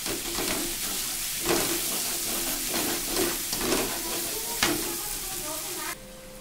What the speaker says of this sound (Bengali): সরিষাটা কালো হওয়ার পরে আমি সেই পেঁয়াজ রসুন দেখো পরিমাণ মতো আমি ছেড়ে দিয়েছি